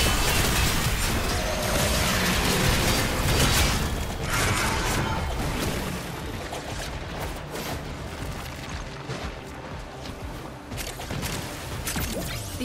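An excavator machine in the video game Warframe runs amid a dense, continuous wash of mechanical rumble, booms and crashing combat noise, holding loud and steady before easing slightly partway through.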